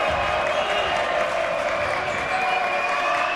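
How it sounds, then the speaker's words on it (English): A loud, steady roar from the crowd at a high school girls' basketball game, the Eagles home section cheering and clapping throughout, with voices mixed into the din. "Eagles crowd getting very loud now"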